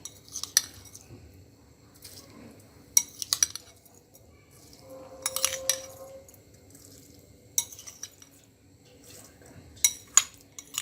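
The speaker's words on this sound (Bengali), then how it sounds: "এখন চাউলটা দিয়ে দিচ্ছি।" Soaked kalijira rice goes into a pot with sharp metallic clinks and spoon scrapes in separate bursts, plus a brief wet rattle of grains in the middle, with no one talking.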